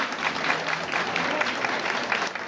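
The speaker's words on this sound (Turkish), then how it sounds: "Ama alkışlar bu kadar sessiz olursa olmaz." A crowd at a Turkish village solidarity association's unity night claps in a continuous, even wash of applause, moderately loud and unbroken for the whole stretch.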